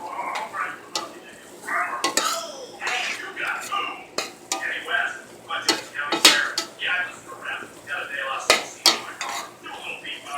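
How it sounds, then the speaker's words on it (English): A utensil stirs flour into a creamy chicken pasta sauce in a pot, making irregular close scrapes and clinks over a faint sizzle, with a few sharper knocks against the pan. "I'm gonna give that a stir."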